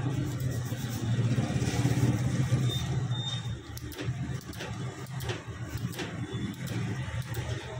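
A repaired motorcycle engine idles steadily and close by in a Punjab village, a continuous low mechanical rumble that dips slightly partway through.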